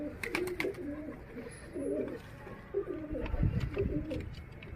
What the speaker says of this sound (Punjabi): ਨਹਾਉਣ ਨੂੰ ਕਰਦੇ ਕਬੂਤਰ